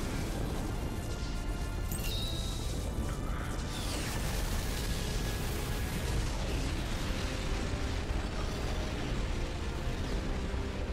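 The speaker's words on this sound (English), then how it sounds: "He noticed you so much that he decided to give you a tail beast bomb." A tailed beast bomb blast in Naruto Shippuden: Ultimate Ninja Storm 4 unleashes a dense, sustained roaring rumble with crashing bursts and whooshing streaks, loud and filling the scene throughout.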